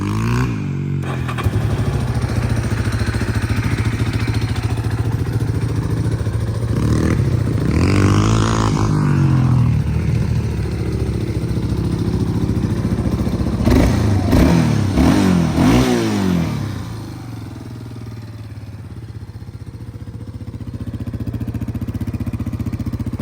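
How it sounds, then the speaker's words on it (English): A Yamaha Warrior 350 ATV engine cold-starts and runs at a steady, close, loud idle, with a couple of brief revs in the middle before it settles lower toward the end. "We'll go ahead and do a cold start on this guy."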